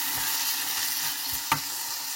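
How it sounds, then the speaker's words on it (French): Fresh tomato stirred into browned onions in a frying pan, a steady hiss of frying with soft periodic scrapes and one sharper knock of the utensil against the pan. "Je vais remuer un peu aussi."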